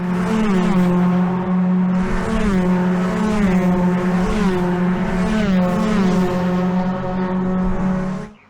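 500cc race cars pass at a Kirkistown race meeting: a loud, close buzz of several engines overlapping, pitch shifting as they sweep by, then cutting away sharply at the end.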